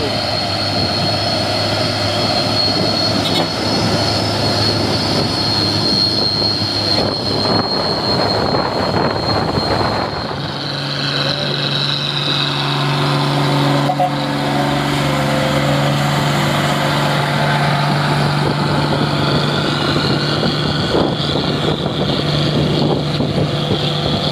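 A Hino truck engine labours on an uphill climb, producing a loud, unbroken heavy drone that briefly dips and then settles into a lower, strained tone partway through, close and dominating throughout.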